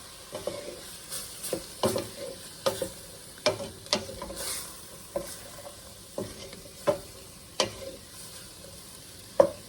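Pepper and garlic sizzling in a soup pot, a soft steady frying hiss broken by a regular series of sharp taps and scrapes from stirring, close and fairly quiet with no talking.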